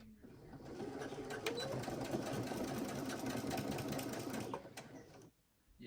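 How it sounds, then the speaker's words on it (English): A sewing machine runs steadily for about five seconds, stitching continuously around elastic fabric for a tube top, loud and close, then stops abruptly. "we're just going to sew all the way around, continuous from end to end"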